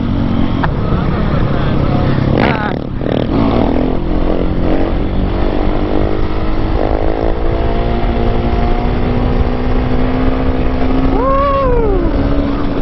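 Husqvarna 701 motorcycle engine revving through a power wheelie in second gear, a loud, continuous, close engine drone that climbs in pitch and then dips, with brief voices and shouts over it.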